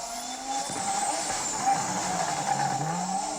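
A rally car races past at speed, its engine note rising and falling with a brief tyre squeal, heard amid crowd and outdoor noise at moderate distance.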